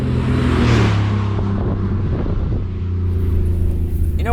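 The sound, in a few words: van being driven on a track, engine revving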